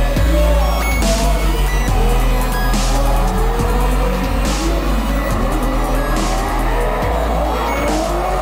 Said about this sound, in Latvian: Es nodarbojos ar driftu, tās ir autosacensības, kontrolējumā sānslīde, automašīnas lielos ātrumos